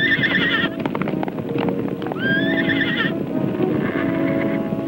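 A herd of horses galloping and whinnying several times with a high, wavering neigh over steady hoofbeats and a busy outdoor rumble, fairly close and loud.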